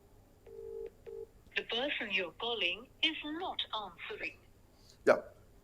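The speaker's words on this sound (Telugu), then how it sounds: "ప్రస్తుతానికి కొండ సురేఖ గారికి ఫోన్ అయితే రింగ్ అవుతోంది" A phone call ringing out to a politician: two short ringback tone bursts sound near the start, followed by continuous speech over the line.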